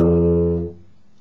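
Tuba held on a single loud, close sustained low note set by the player's lip buzz, fading out after about three quarters of a second.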